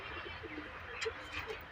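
Pigeons in a loft give soft, low coos close by, a few brief murmured calls in quick succession over a faint background hiss.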